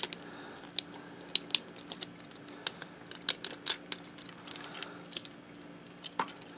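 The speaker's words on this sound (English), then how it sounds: "you can actually push in the rear view mirrors" Small plastic rear-view mirrors on a Transformers Masterpiece MP-18 Streak figure being folded in, giving sharp, faint clicks and ticks spaced irregularly against a quiet room.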